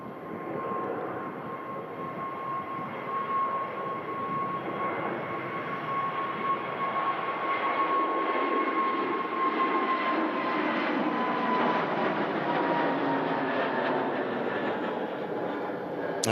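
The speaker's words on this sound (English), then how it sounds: "Now British Airways heading back to London Heathrow as the Egypt Air taxis past us here at the Runway Visitor Park." An EgyptAir airliner taxis past at Manchester Airport's Runway Visitor Park, a steady broad jet engine roar with a high whine that swells and holds throughout, loud and continuous with no talk.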